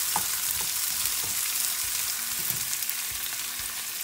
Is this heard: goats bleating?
no